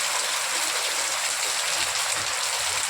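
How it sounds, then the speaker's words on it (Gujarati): Steady rain pours over a garden, a dense, even hiss of falling water that stays loud and unbroken with no voices. "આ અમારું ગાર્ડન છે, આપ જોઈ શકો છો કેવો સરસ વરસાદ આવે છે"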